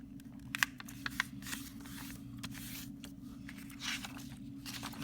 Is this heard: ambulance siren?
no